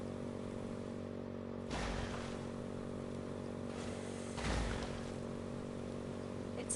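A motorcycle engine in the video game Code Vein 2 drones at a steady idle hum, with two brief whooshing surges as it revs or passes, and no talking.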